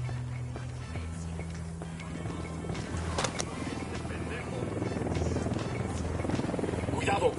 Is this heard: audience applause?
no